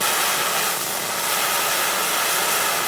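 Steady, loud broadband hiss and roar of an oxy-acetylene cutting torch flame with a sharp tip, a flame about 10 to 12 inches long, sounding continuous and close with a slight whipping edge.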